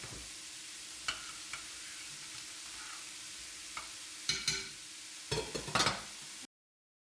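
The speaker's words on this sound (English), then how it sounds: "Stir everything, turn the heat down a little so it doesn't burn." Pasta with eggs and ketchup stirred in a frying pan, a quiet steady sizzle with occasional scraping clicks from the utensil, growing busier near the end.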